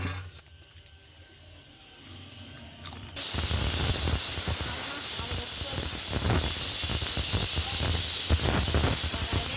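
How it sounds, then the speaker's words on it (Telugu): A pressure cooker cooking rice lets off steam through its whistle, a loud, sustained hiss that bursts in suddenly after a quieter stretch and continues steadily to the end. "కుక్కర్ విజిల్లో వస్తున్నాయి."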